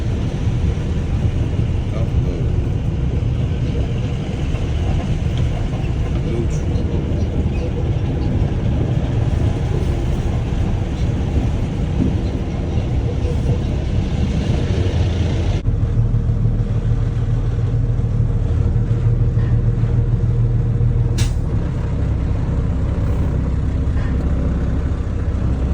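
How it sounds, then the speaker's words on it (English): Trucks at a dirt hauling job idle and rumble nearby with a constant low engine drone that shifts tone partway through, with people talking over it. "Got some trucks."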